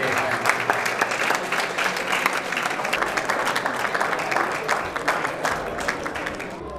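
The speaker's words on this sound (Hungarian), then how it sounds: "Tapsoljuk meg az egész mezőt" An audience at an evening awards event claps loudly and continuously, a dense wash of applause from a crowd that fills the whole stretch at steady strength.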